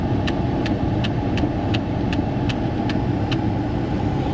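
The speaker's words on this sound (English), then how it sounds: "That's the release for the shifter." Regular clicking of the shift lock release on a Honda CR-V CVT shifter while the brake is pressed, about ten evenly spaced light ticks over a steady idling engine hum inside the car.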